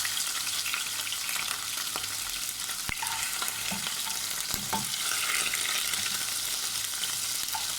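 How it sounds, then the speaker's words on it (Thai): Shrimp dropped into hot oil in a wok, crackling and frying loudly and steadily at close range, with a few clinks from stirring and no talk. "น้ำมันร้อนแล้วเราเอากุ้งใส่ลงไปเลยนะคะ เอากุ้งใส่ลงไปก่อนเลยนะคะ"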